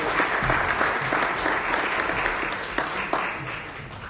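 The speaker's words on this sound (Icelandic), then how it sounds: "Ég ætla að byrja ykkur að klappa fyrir þeim." An audience applauds steadily at a darts championship awards ceremony in Iceland, with dense continuous clapping from a sizeable crowd lasting throughout and a few sharper individual claps near the end.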